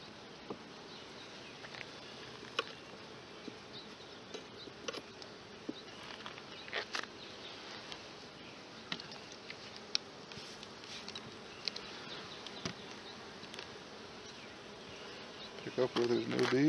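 Continuous buzzing of many bees close by, with scattered sharper buzzes and faint taps as insects move around.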